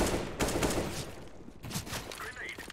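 Bursts of gunfire during a CS:GO match, a few quick rattling volleys of shots spaced across a short stretch, fairly faint and mixed with other game noise.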